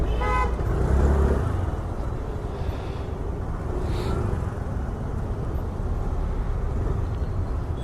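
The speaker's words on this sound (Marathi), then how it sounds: "ही आता रेग्युलर एवढी असतेच ट्रॅफिक जाम इकडे" A roadside traffic jam rumbles steadily with engine noise, and a car horn toots a few times early on, close by in heavy traffic, with no voices.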